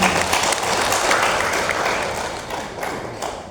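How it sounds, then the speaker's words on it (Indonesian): An audience at an Indonesian education ministry address breaks into loud, dense, sustained applause that slowly fades toward the end. "Tepuk tangan buat Bapak ini."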